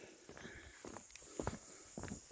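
Footsteps tread slowly and unevenly on the ground in a quiet forest, four or five soft crunching steps close by, with a faint insect hum behind them.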